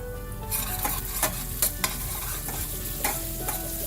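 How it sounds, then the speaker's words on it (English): Onions, turmeric and slit green chili are stirred as they fry in a pan, with a close, loud sizzle and repeated scraping strokes and clinks of the spoon. "Give it a good stir."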